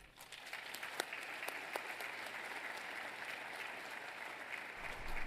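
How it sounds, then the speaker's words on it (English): A conference hall audience gives a plenary speaker a warm round of clapping, a dense, even patter of many hands lasting several seconds with a few sharper claps standing out. "I would like to all of you to welcome her with a big applause"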